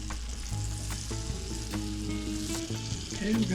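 Butter and shrimp frying in a pan give a continuous bright sizzle with occasional stirring knocks, close up and with no one talking.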